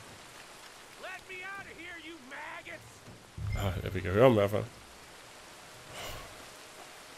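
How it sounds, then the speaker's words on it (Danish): Steady rain falling in the open-world western video game Red Dead Redemption 2, a soft continuous hiss running throughout under a voice talking in Danish, with a louder burst of game sound midway. "Ej, jeg har lyst til bare at stå her og nyde regnen."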